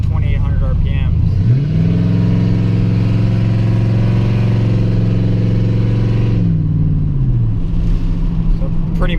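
A cammed, stalled Chevrolet Silverado engine drones loudly from inside the cab, its pitch rising as it downshifts and accelerates, holding a steady rumbling tone before easing back down.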